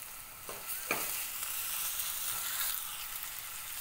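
Onion with ginger-garlic paste sautéing in a pan with a steady broadband sizzle, scraped and stirred a few times by a spatula. No one speaks.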